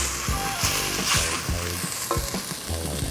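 Ginger and garlic sizzle in a red paste for a Rajasthani mutton curry, a close, continuous frying crackle with stirring scrapes and soft thuds of the spoon.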